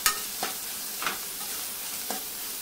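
Onion and tomato frying in a pan with a little salt, a soft continuous sizzle broken by several brief scraping stirs of a spoon against the pan.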